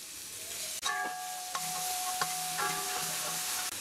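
Chopped large onion dropped into hot oil in a pan, sizzling and frying steadily with several stirring scrapes and clatters, close and fairly quiet, with no talking.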